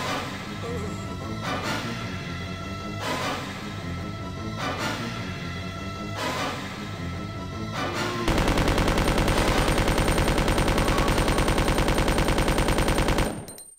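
Rapid automatic gunfire from a Resident Evil 2 game, first in several loud bursts with short pauses between them, then one long unbroken stream of shots before a sudden stop.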